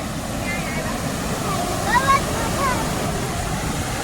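A waterfall roars as a steady broadband rush of falling water, loud and close, with people talking faintly over it.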